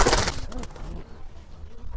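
A brief burst of noise gives way to soft, low coos from a male silver-generation pigeon close by, murmuring quietly in a short sequence.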